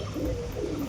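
Pet pigeons cooing softly at home, a low murmuring coo repeated twice in close succession over quiet background.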